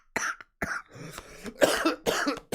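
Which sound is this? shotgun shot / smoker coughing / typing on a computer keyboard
smoker coughing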